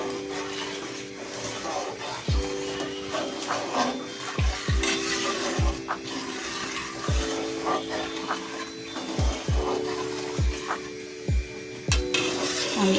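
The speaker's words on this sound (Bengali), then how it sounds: "খুব ভালোভাবে নাড়াচাড়া করতে হবে," Spoon scraping and knocking against a pot while stirring puli pitha dough mixture, with repeated scrapes and clunks at irregular intervals over a low background hum.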